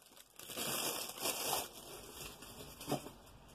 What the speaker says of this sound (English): there's going to be more crinkling